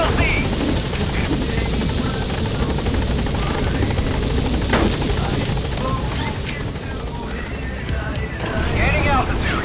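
Pequod helicopter arriving at a landing zone in Metal Gear Solid V, a loud steady rotor roar filling the scene, with a voice speaking over it and horse whinnies and hooves faintly mixed in.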